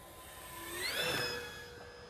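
E-flite P-51D RC model warbird taking off from grass, its electric motor whine rising and sweeping past, loudest midway, then fading into the distance.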